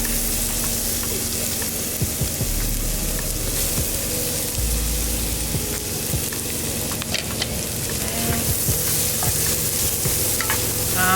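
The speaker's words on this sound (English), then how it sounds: "I'm gonna put our onions in there." Onions and garlic sizzle steadily in a hot pan, a continuous close frying hiss with occasional scrapes and stirring clinks, no voices over it.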